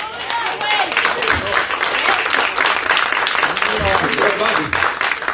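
Church congregation clapping steadily in rhythm during a lively service, a dense continuous wash of handclaps with voices mixed in.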